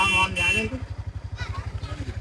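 Motorcycles coming up from behind on a forest road, a steady pulsing engine rumble close by, with someone talking over it and a brief horn-like tone near the start.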